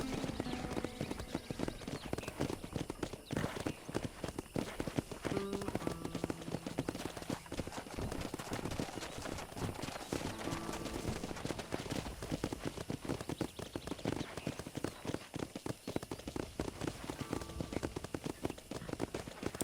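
Horse hooves clip-clop continuously and briskly in Red Dead Redemption, the horses pulling a carriage along a road, with the rhythmic clatter dense and close under a constant wash of outdoor ambience.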